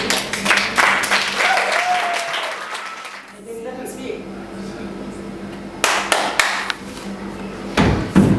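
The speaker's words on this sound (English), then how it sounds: "Please give the round of applause for the 6 guys." An audience at a live stage show applauds the six performers, a loud burst of clapping that fades after about three seconds. Voices and a few scattered claps follow, with more clapping near the end.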